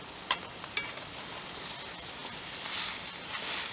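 Burger meat sizzling in a cast-iron skillet over an open fire, a steady soft crackle and hiss with a few sharp clinks near the start, fairly quiet and close, no talking.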